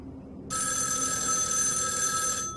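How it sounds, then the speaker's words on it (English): A telephone rings in the Christmas horror film Black Christmas, with a steady electronic bell tone that starts abruptly and holds loud and close for about two seconds before easing off. "And the ringing just gets louder and louder."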